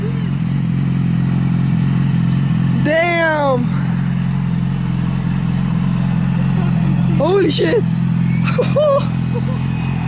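A motorcycle engine rumbles steadily nearby and revs up sharply twice, while excited voices shout over it.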